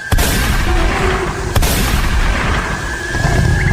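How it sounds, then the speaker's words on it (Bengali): Two sharp gunshot effects in a Bengali hunting audio story, a loud crack at the start and another about a second and a half later, each followed by a booming tail. "মিস্টার সিনহা বন্দুক তুলেই ধাঁ করে এক গুলি পরপর দুবার"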